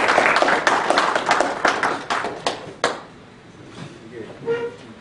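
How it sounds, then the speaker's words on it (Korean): A seminar audience claps to welcome a lecturer, a brief round of applause with distinct hand claps that thins out and fades, followed by faint voices. "그러면은 박수로 환영을."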